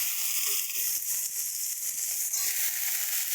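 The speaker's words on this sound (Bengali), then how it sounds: "এবার এগুলোকে একটু ভালো করে ভেজে নেবো" Tomato, onion, ginger and chopped raw hog plum (amra) fry in a pan with a steady, bright sizzle and faint stirring crackles, close up and continuous without talk.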